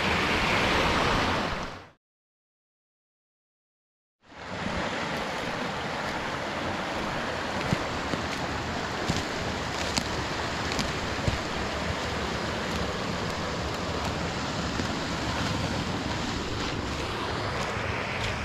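A waterfall and rushing stream in a wooded ravine at White Hill Fall, Nova Scotia, a dense steady roar of falling water, loud and continuous after a brief dropout of silence.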